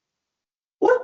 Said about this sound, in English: apologies for my dog in the background